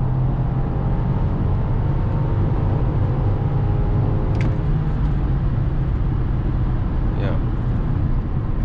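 A chip-tuned 309 hp BMW X5 E53 4.4i engine drones low and steady while driving through the city, a constant rumble under someone talking.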